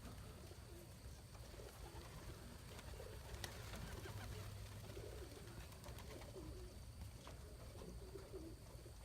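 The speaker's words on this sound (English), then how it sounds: "I just wanted to give you another quick video of the birds up and going." Racing pigeons near their loft, soft low cooing against a quiet outdoor background with faint rustling, heard from a short distance.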